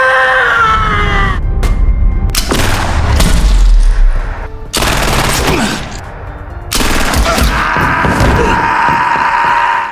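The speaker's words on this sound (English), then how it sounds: "stormed in with a submachine gun, throwing the hall back into chaos. Several players were killed in the gunfire." Submachine gunfire erupts in a film scene in a crowded hall, loud bursts and booms cutting in and out amid screams and dramatic sound effects, running throughout the clip.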